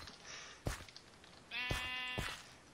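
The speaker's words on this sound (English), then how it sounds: "I hear a sheep." A Minecraft sheep bleats once, a clear wavering baa lasting about a second, preceded by a few sharp clicks and thumps of in-game activity, fairly close and alone without talk.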